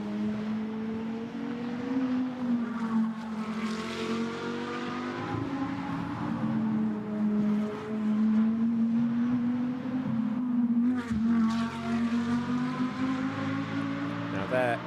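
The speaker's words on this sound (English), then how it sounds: "As you might expect, makes a great noise, that car." A Porsche GT2 race car at Monza sustains a steady, moderately distant engine drone, its pitch rising and falling gradually as it runs through a section of the circuit, with a commentator talking over it.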